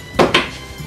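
A closet door, one of a pair of six-panel interior doors, is moved and shut, giving two quick wooden thumps in close succession at close range, then a quieter settling sound.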